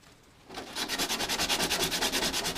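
A scale model joint is sanded clean before filler goes on, with steady, evenly spaced back-and-forth rubbing strokes, close and clear with no talk.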